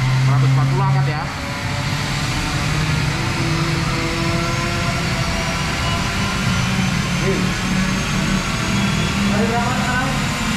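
A Hyundai Kona Electric runs at full throttle on a dynamometer, giving a steady, loud whir and roar of rollers and motor that holds for the whole stretch, with voices talking over it.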